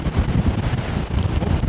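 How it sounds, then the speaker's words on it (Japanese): Ocean waves wash against the shore of Oshima island with steady wind, a continuous rushing roar that fills the whole stretch without a break. "波の音は聞こえる。"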